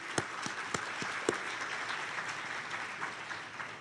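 Audience applause at a conference opening ceremony, a steady wash of many hands clapping with a few sharper claps standing out early, moderately loud and continuous throughout.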